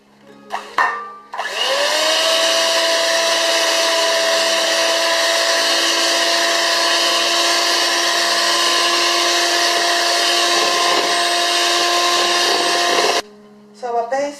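An electric mixer whirs with a steady, high motor whine for about twelve seconds, whisking condensed milk, egg yolks, lime juice and lime zest for a key lime pie filling, then switches off.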